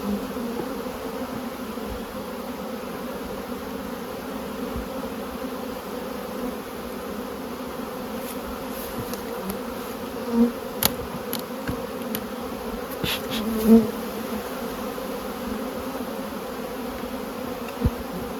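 Honey bees buzz steadily around an opened beehive during a November hive move in Crossmaglen, a continuous low drone with a few nearer individual bees flying close past, no talking.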